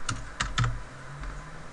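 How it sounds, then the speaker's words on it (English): Quick keystrokes on a computer keyboard while a company name is entered into a quote system form, a few close, crisp taps in a short burst over a quiet background. "you just start typing a company name"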